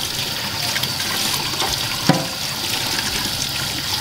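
A kitchen grater is rinsed under a running tap, giving a steady hiss of water with a brief clink partway through.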